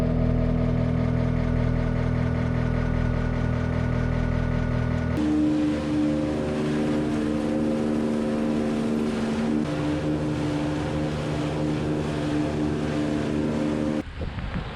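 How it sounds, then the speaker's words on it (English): An old International tractor engine drives a silage blower at a silo during a fourth-cutting alfalfa harvest, a loud, steady droning hum that shifts to a rougher tone partway through and drops off briefly near the end. "We just had the old International hooked up to the blower there, giving us some fresh air."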